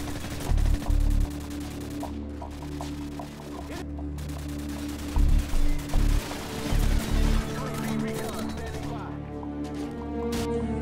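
Silenced MP5SD submachine gun firing in Call of Duty 4: Modern Warfare: a few short, muffled bursts of shots over a steady background hum and tones.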